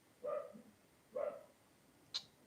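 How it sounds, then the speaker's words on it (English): Dogs bark twice in the distance with a pause between, faint and muffled, followed by a couple of brief higher sharp sounds. "Those dogs are driving me nuts."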